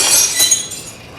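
Glass breaks at a tourist attraction, a brief bright shatter and tinkle of fragments that fades within about a second, close and fairly loud with no voices.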